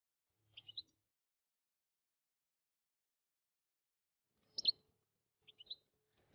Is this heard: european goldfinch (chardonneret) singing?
yes